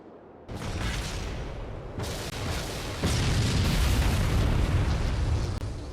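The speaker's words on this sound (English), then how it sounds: "The Scarab is destroyed." Scarab being destroyed in the Halo Wars video game: a sudden loud explosion swells into sustained rumbling booms, with a further heavy burst midway and a continuous roaring blast that stays close and loud.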